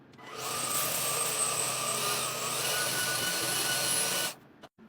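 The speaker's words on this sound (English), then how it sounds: "we're going to clean her up with the Homika" A Homeika stick vacuum cleaner runs in a kitchen, a loud steady high-pitched whine with an airy rush that starts abruptly, holds for about four seconds and then cuts off.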